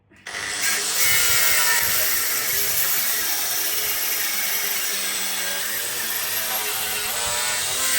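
Angle grinder biting into an old Victorian cast iron hand pump, a loud, continuous high-pitched whine that starts abruptly and holds steady with slight wavering, close up and with no voices.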